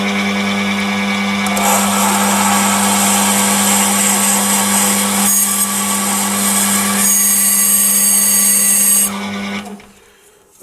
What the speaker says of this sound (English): I've got the drill most of the way in